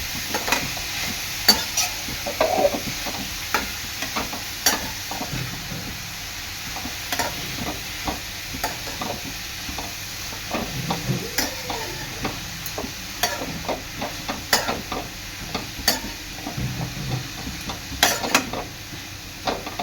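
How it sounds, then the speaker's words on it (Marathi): Grated carrot for carrot halwa being stirred in a pan, with a steady soft sizzle and frequent scraping and clinking of the spoon against the metal, close and continuous, with no talking. "संपूर्ण गाजराचा पीस हा एकत्र करून घ्यायचा आहे"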